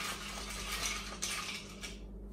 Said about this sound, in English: you stir it, make all the ingredients mix and go on top around